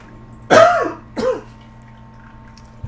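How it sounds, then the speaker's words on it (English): Two close, harsh coughs, the first louder and the second shorter, followed by quiet. "I got a cough."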